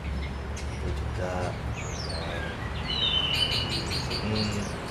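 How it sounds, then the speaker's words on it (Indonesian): Caged songbirds, a white-rumped shama and a cucak hijau, sing close by with varied whistles, chirps and rapid trills over a low steady background hum, with speech faint in the background. "di sini ada murai juga, ada cicak hijau ada"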